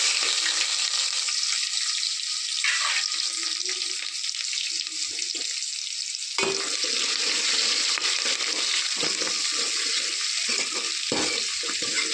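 Hot oil sizzles and crackles steadily as mustard seeds, cumin, onion, dried red chillies and curry leaves fry for sambar tempering, a dense continuous hiss with occasional pops and stirring scrapes, close by.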